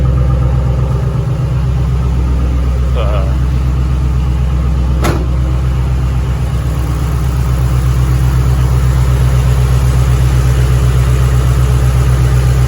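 A 2005 Ford Mustang 4.6L three-valve V8 idles close by after a spark plug change, in a smooth, even rumble, steady throughout with one brief click partway through.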